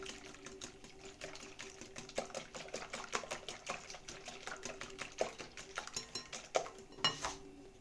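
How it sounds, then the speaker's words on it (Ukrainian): Four eggs beaten with banana in a bowl, a steady fast rhythmic clatter of utensil against the dish, fairly faint and close, continuing throughout without talk. "Так, 4 яйці перебиваємо з бананом."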